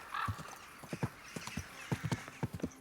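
A horse's hooves clip-clop at a slow walk in a medieval video game, an irregular run of soft hollow knocks, near and moderately quiet, with a brief whinny at the start and no speech.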